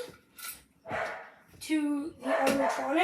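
A dog barks a few times in the background while a person speaks nearby, the barks short and mixed with the talking.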